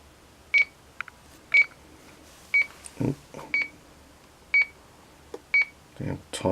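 The electronic timer on a motor test trainer gives short, sharp beeps at a regular pace of about one per second, with some brief clatter and a voice between them.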